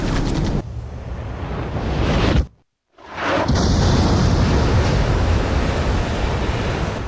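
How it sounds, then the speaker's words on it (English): Missile impacts striking a ship in the video game Ace Combat 5, heard as loud, continuous roaring rumble broken by a brief near-silent gap before the blast noise resumes. "We've been hit by 2 sub-launch missiles."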